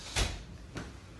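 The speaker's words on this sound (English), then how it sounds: "I'm just going to shut the door." A door is shut in a room, giving a firm thud followed a half second later by a softer knock as it settles, with no talking.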